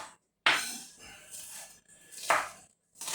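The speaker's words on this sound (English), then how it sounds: "So just cut these up quite fine" A knife chops spring onions finely on a board, giving a few sharp, separate strikes with short pauses between them, close and fairly loud, with no talk.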